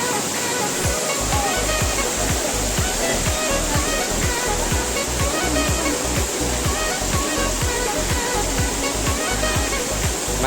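Tentei Nali waterfall in dense forest roars steadily as a loud, continuous rush of falling water close by, with low thumps in the background.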